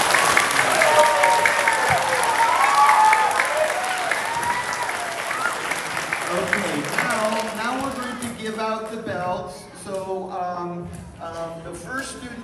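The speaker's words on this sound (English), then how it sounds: "So let's give them another round of applause." Loud, sustained clapping from an audience at a martial arts awards ceremony. It thins out toward the end as voices come through over the fading applause.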